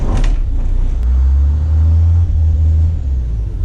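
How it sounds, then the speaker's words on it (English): A school bus diesel engine idles loud and close, a heavy low rumble that holds steady with a faint turbo whistle riding above it, and no voices. "can actually hear the turbo"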